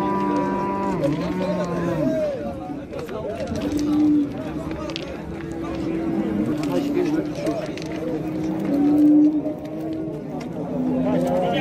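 Bulls and oxen at a busy livestock bazaar give repeated long, deep moos that swell and fade, heard close by over constant loud trading chatter and crowd noise.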